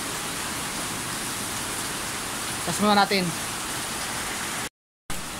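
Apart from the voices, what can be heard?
rain falling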